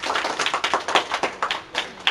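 Scattered clapping from an audience at a school spelling bee, a spread of hands patting irregularly across a couple of seconds, moderately close and without voices.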